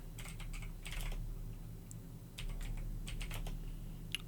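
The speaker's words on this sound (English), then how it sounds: "That's the first time I've ever heard key clicks" Fast, crisp clicks of typing on a computer keyboard come in uneven bursts with short pauses, close and fairly quiet over a steady low hum, with no talking.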